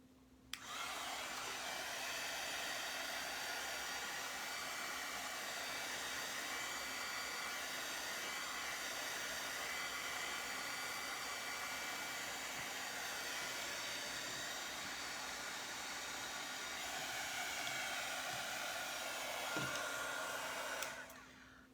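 Hair dryer blowing steadily on craft paste, a continuous loud whooshing roar with a fixed motor whine, starting and stopping abruptly, no voices over it.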